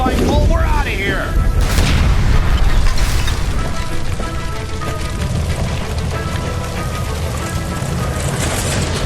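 A gas line explodes after a gunshot in the crime game L.A. Noire, a loud boom followed by a sustained roar of fire and crackling debris that fills the scene.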